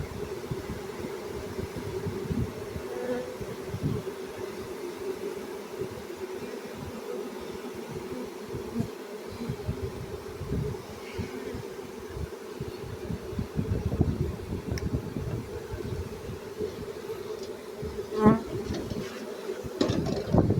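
Honeybee swarm in spring: a continuous, even buzzing hum from many bees, moderately close, with a few individual bees droning louder as they pass nearby.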